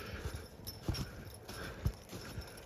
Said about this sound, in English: At Libby's age, if I needed a horse, I wouldn't be afraid to work her today.